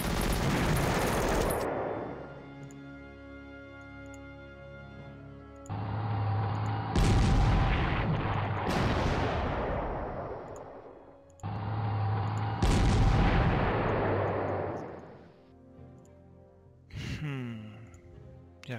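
Heavy booming blasts and rumbling impacts from an assault on an anti-tank gun in the Panzer Corps war game, coming in several loud bursts separated by quieter, decaying gaps.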